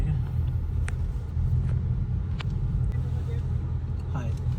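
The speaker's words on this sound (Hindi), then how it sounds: "गाड़ी की आवाज़ बहुत होती है" A car engine idles at a drive-through, a steady low rumble filling the background with a few faint clicks over it.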